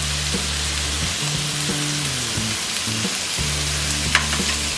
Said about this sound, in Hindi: और इसे हम 2 मिनट तक फ्राई करेंगे। में डालेंगे ये ग्रेटेड कोकोनट